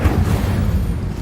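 A spell-cast explosion in the video game Hogwarts Legacy, a continuous deep booming rumble that stays loud and steady for its whole brief length, with no voices over it.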